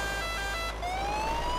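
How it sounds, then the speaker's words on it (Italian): An ambulance siren in the driving game Euro Truck Simulator 2 wails loud and close, a steady electronic tone that shifts pitch into a rising sweep, over a constant low engine hum. "C'è l'ambulanza!"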